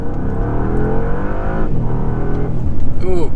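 Bentley Flying Spur Hybrid surging hard from 20 to 60 mph, a loud, continuous engine and drivetrain roar that climbs in pitch, dips briefly at a shift, then rises again with a rushing whir near the end.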